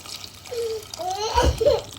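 Water is poured into a Bangladeshi handi (cooking pot) for a boal fish curry with kochu and satkora, making a short, close splash and gurgle while voices sound nearby.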